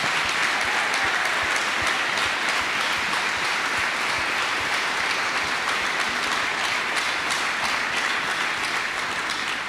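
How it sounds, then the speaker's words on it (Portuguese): A congregation at a Portuguese-language church service bursts into strong, sustained applause for Jesus, a loud continuous wash of many hands clapping that fills the whole stretch without letup. "Uma forte salva de palmas para Jesus"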